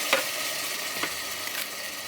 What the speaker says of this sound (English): And then into your pan you are going to add your tin tomatoes.